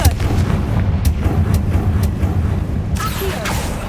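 A Confringo fire spell in Hogwarts Legacy erupts as a loud, booming blast followed by rumbling, crackling fire and debris, with game sound effects and no talk.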